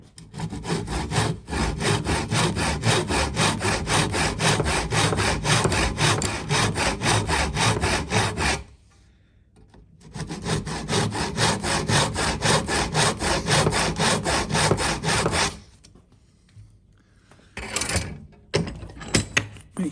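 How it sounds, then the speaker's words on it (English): A tenon saw cuts through wood held in a vise for a halving joint, with fast, even back-and-forth rasping strokes in two long runs separated by a pause, then a few short final strokes, close up. "Tenon saw in the groove."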